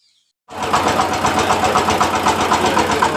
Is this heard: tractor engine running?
yes